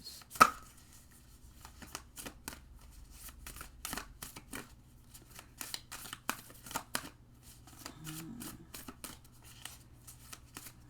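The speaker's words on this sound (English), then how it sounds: "I'm just shuffling" Tarot cards are shuffled repeatedly in quick crisp bursts of riffling and tapping, close up, with short pauses between rounds and no talking.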